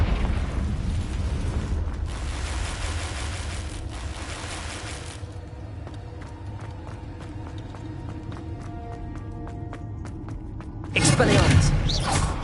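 Confringo blasting spell explosion in the Hogwarts Legacy video game: a loud, broad burst near the end, over a steady rumbling game soundscape with earlier swelling bursts of spell noise and scattered clicks.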